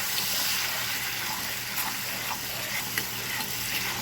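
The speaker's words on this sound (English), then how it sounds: "Just keep stirring." Lumpy rum cake batter with butter being stirred in a bowl, a continuous wet scraping and swishing with small clicks of the spoon, close and fairly loud, without speech.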